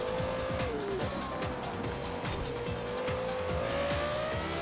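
Porsche Carrera GT in Forza Horizon 4 driving steadily with a continuous high engine drone, gear changes shifting the pitch, and light tire squeal throughout, loud and close with no talking.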